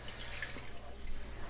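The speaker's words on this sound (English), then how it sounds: "We're gonna take our broth and our heavy whipping cream mixture, pour this in" Broth and heavy whipping cream mixture poured into a pan for creamy chicken orzo, a brief steady splashing stream of liquid over a low background hum.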